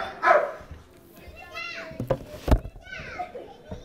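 A dog barks sharply once or twice at an indoor public safety awards ceremony, amid children's chatter and background noise in the room.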